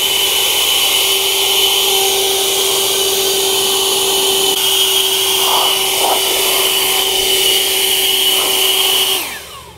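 Cordless car detailing blower fitted with a short stubby nozzle, drying a car hood: a loud, steady high-pitched whine and rushing air held close for about nine seconds, then cutting off abruptly at the end.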